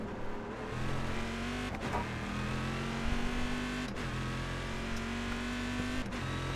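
Chevrolet Corvette C6.R GT1 race car in a racing video game, its engine droning steadily at high revs while the pitch dips and climbs through gear changes and deceleration, loud and continuous with no talk over it.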